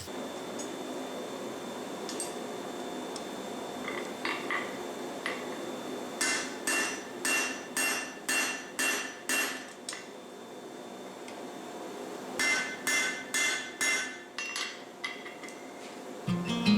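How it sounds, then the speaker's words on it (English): A damascus steel ring blank is hammered to round its corners, two bursts of about eight and five sharp metallic strikes in steady rhythm, close and loud, with quiet handling noises between. "I'm going to start rounding it by hammering in all of these corners"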